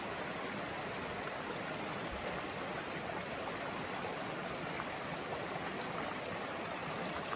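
A small river at a campsite in Waterville Valley, New Hampshire, flows and burbles with a steady, broad rush of water that stays constant and fairly close throughout, with no other sounds breaking through.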